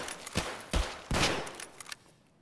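Scav gunfire in the Escape from Tarkov video game: a few separate shots and short bursts spread unevenly across the moment, at moderate loudness with no talk over them.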